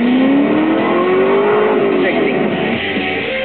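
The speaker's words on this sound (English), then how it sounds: "This is a test of our car's off-the-line acceleration." A Ford GT or Lamborghini Gallardo supercar engine revs hard and climbs steadily in pitch as it accelerates off the line, loud and close, with tire noise and a voice briefly audible over it.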